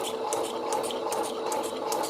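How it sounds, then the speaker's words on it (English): A sewing machine runs steadily while stitching fabric squares, a quiet, even mechanical whir with light rhythmic ticking, heard alone. "But right now we're just sewing"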